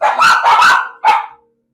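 Dogs barking close and loud: three quick barks run together, then a single final bark after a short pause, with nothing else around them.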